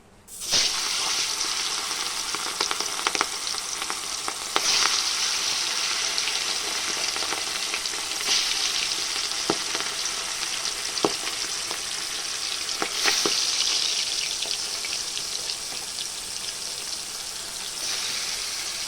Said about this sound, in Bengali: এদিকে আমার মাছ ভাজা চলছে